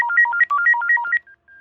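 A model 6329 telephone, an early version of the set, rings with a rapid warbling two-tone trill in a quick burst lasting about a second, then a thin lingering tone fades out.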